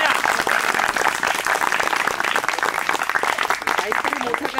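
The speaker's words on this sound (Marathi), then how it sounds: "जोरदार टाळ्या।" A crowd at a YouTube silver button award celebration claps loudly and continuously, the dense applause mixed with cheering voices throughout.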